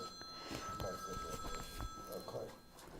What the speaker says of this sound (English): I can find my phone. I hear it ringing.